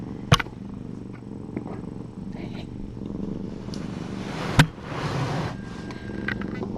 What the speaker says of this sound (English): Do you hear so much purring?